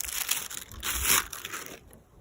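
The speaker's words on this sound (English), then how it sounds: "First, we're going to take out the tube with the packaging." A bike inner tube is pulled from its crinkly plastic packaging, giving close, loud crackling and crumpling bursts that continue for about two seconds before tapering off.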